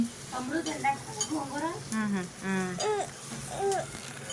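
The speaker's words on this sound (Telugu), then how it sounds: "ఏదో ఫ్రై చేస్తుంది గుడ్డు కర్రీ చేస్తుంది" Eggs fry for an egg curry, giving a continuous sizzle with stirring sounds underneath several voices talking close by.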